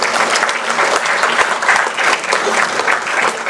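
An audience at the Maui County State of the County address applauds the mayor's speech, a dense, loud, even roar of clapping from a large crowd filling the whole moment.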